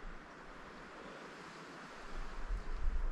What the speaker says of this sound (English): Seems like it's getting windier.